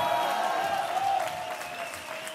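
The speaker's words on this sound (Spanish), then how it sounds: "Fuerte el aplauso para todos ellos" Applause from an awards-show audience rolls on as a dense crowd clapping, with a faint crowd murmur and a sustained musical tone underneath. The clapping eases off slightly toward the end.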